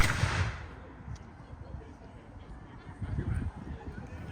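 A black-powder musket fired at a Revolutionary War re-enactment with 6th Virginia Regiment troops, heard as a sharp, loud report at the start followed by a rumbling decay and outdoor crowd noise.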